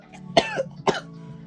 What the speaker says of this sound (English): began to profusely cough up blood